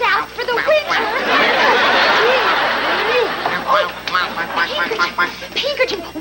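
A woman imitates a duck with repeated nasal quacking calls, close and loud, mixed with laughter and chatter in a comedic puppet sitcom scene.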